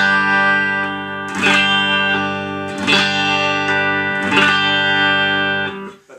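Mexican-made Fender Stratocaster with Fender noiseless pickups, strummed in three sustained chords through effects with some distortion and chorus, loud and close, no talking.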